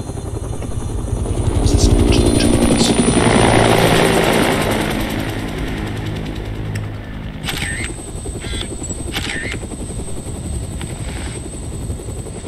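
Helicopter in the video game Dead Rising (Xbox 360) flies with a steady loud rotor thump and engine drone, swelling near the start then holding even, with no talk over it.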